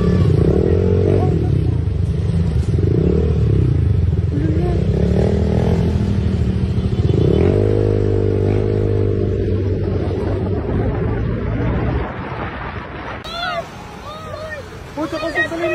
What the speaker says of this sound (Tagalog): Puto kusog sa linog!